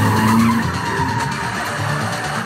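Turbocharged Kia K5 sliding through a flat spin, a loud continuous tire squeal and skid with engine noise beneath, close and sustained throughout.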